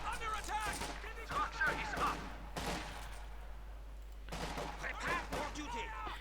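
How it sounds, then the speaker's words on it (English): Volley gunfire in the strategy game Company of Heroes 2, rattling bursts of rifle and machine-gun fire with distant battle rumble, heard under a commentator talking continuously. "We got volley fire there going off."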